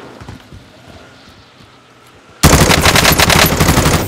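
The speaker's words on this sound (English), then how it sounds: "I'm under fire." Gameplay from Call of Duty: Modern Warfare Rebirth on PS5 opens on quiet ambience, then bursts into loud, sustained automatic gunfire that continues to the end, close and dense.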